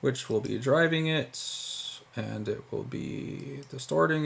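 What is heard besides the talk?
No everyday noises stand out.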